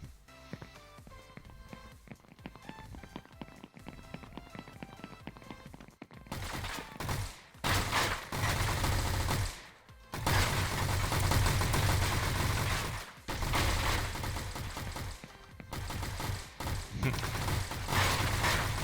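Rifle gunfire from Attrition, a video game under development, erupts after a quieter musical opening into loud, sustained bursts of rapid shots, broken by a few brief pauses.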